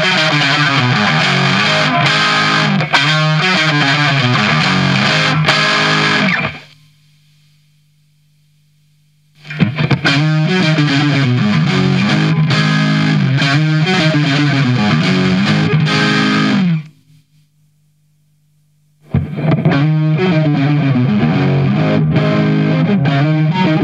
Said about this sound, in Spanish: Y ahora toda la distorsión.